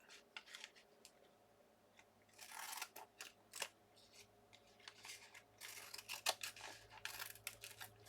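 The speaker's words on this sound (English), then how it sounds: "Alright, I'm just going to trim it." Scissors snip through washi tape with glue on the blades, making a series of close, crisp cuts and short rustles at an irregular pace, with no talking.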